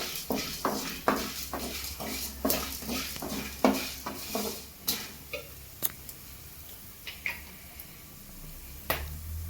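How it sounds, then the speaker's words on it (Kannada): Cinnamon, cloves and star anise fry in a pan with a jackfruit kebab being made: rhythmic close clinks and scrapes of a spoon stirring, over a soft sizzle, with no talking. "ಚಕ್ಕೆ, ಲವಂಗ, ಸ್ಟಾರ್ ಅದನ್ನೆಲ್ಲ ಹಾಕಿ ಒಂದು ಸ್ವಲ್ಪ ಫ್ರೈ ಮಾಡುವ"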